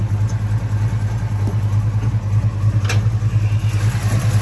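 A rebuilt 454 big-block V8 in a Chevelle with a turbo 350 transmission runs at a steady, loud, low rumbling idle while the car shakes, with no voices over it.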